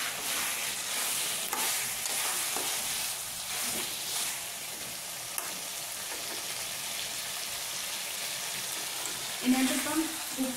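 Beef ularthiyathu, Angamaly style, stirred and fried in a pan as its moisture cooks off, with a steady broad sizzle and repeated scraping stirs throughout and a brief louder clatter near the end.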